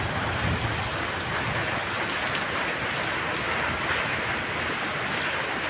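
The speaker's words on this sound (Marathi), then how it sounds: "विजांच्या कडकड्यासह पाऊस चालू आहे." Heavy rain pours down steadily on a farm, a dense, even hiss of drops close by with no distinct thunderclap standing out.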